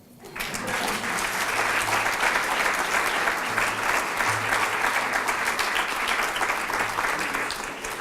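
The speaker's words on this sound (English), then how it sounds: "Now you can applaud." Audience at an evening university lecture event applauding steadily, a dense sustained clapping from a sizeable crowd lasting several seconds without talk.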